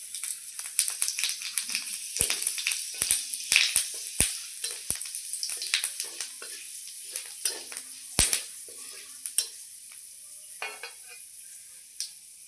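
Panch phoron spices with dried red chilli hit hot mustard oil left from frying fish, giving sharp, scattered crackles and pops over a faint sizzle, close by and with irregular spacing.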